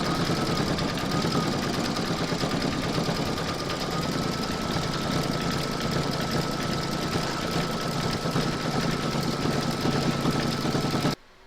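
An embroidery machine stitches an in-the-hoop heart photo frame, a loud, continuous rapid chattering hum with a faint high whine, running unbroken at close range and stopping abruptly at the very end.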